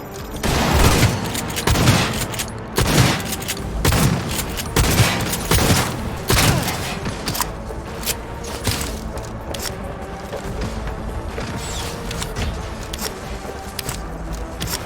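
Gunfire in the video game Cyberpunk 2077, a loud close barrage of heavy shots in rapid bursts, dense at first and then thinning into scattered blasts under a lingering rumble.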